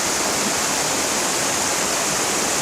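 Charco Prieto waterfall in Bayamon, Puerto Rico, a close, constant rushing roar of falling water filling the whole moment with dense, even noise.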